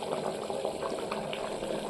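Water bubbles at a boil in a pressure cooker holding mutton pulao, a soft, steady churning with small irregular bubbling pops, fairly quiet and with no talk.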